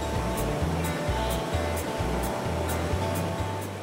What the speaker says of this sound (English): Having the sound of the waterfall all the time is somewhat therapeutic.